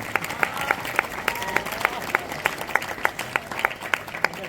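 A festival audience claps together for Shantilal Swami in steady, fairly even rhythmic applause, close and moderately loud throughout the short burst.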